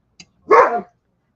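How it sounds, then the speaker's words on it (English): Rosie the dog lets out one short, close growling bark after a tiny faint yip, then silence. "Rosie, quit growling."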